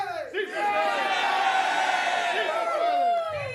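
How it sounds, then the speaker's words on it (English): A large crowd cheers and whoops loudly and steadily at the governor's redistricting announcement, with shouts and a rising voice carrying over the roar before it fades near the end. "You can hear a lot of cheering going on."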